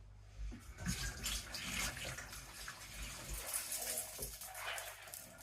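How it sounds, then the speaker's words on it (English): Water runs and splashes into a glass with ice, a continuous hissing pour with a few clinks, fairly quiet and close, with no talking. "I'm just going to put some water in"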